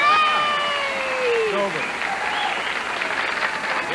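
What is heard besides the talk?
studio audience applauding and cheering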